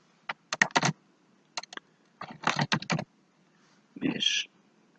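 Someone types on a computer keyboard while entering data into an Excel spreadsheet, producing clusters of quick close key clicks separated by short pauses.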